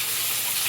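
Garlic paste and spices sizzling in hot oil in a pan, a brief steady hiss with no voices.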